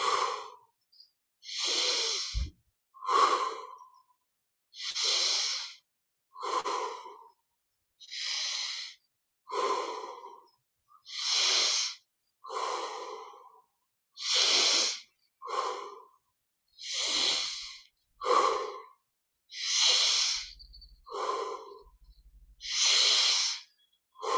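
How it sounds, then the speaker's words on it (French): Slow deep breathing during a guided meditation, inhaling through the nose and exhaling through the mouth, about twenty close, soft, rhythmic breaths in a steady even pattern with no talking. "Et on respire 20 fois profondément. Inspire par le nez, expire par la bouche naturellement."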